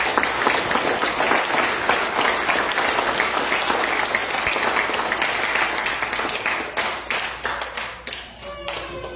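Applause from the audience at a joint Scout troop court of honor: dense, loud clapping that holds steady, then thins into a few scattered claps near the end.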